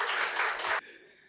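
An audience at a talk on medical service breaks into a short burst of dense clapping that cuts off abruptly, leaving a faint room tail.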